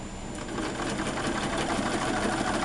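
A sewing machine stitches the top seam of pinned fabric pieces for a glove roll, a steady fast whirring hum running continuously and close up with no talk.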